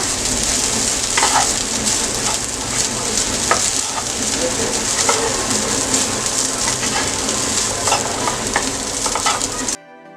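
Cooked rice being stir-fried with salt in a pan for fodnicha bhaat, a steady close sizzle with rhythmic spatula scrapes and taps throughout, loud and continuous, ending abruptly, no talking.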